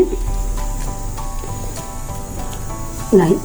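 Green pea vada fry in hot oil with a steady, close hiss and sizzle that continues throughout, then swells briefly near the end.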